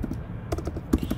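Close-up clicking of laptop keys, recorded by the laptop's own microphone, a quick irregular run of taps with a brief pause before the typing resumes.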